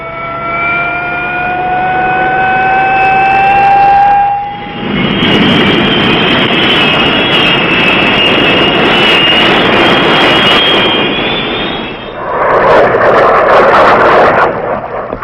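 Military jet aircraft roar in to fly close air support in Vietnam in 1967, a loud, sustained turbine rush that builds and holds for several seconds, with a higher whine fading in and out.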